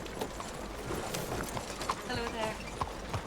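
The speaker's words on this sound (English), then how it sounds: "o cavalo tá vindo aqui junto comigo" A horse walks alongside the player in Red Dead Redemption 2, its hooves clopping in an uneven rhythm close by, mixed with ambient game noise and a few faint bird calls.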